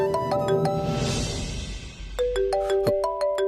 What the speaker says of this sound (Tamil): ஜான்சி மேடம் ஃபோன் பண்றாங்க